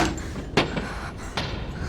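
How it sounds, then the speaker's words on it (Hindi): A door bangs in a Bollywood horror film scene, a sharp thud followed by a second softer knock over a muffled, reverberant room background, with no speech. "वो गोली की आवाज नहीं थी, दरवाजे की आवाज थी"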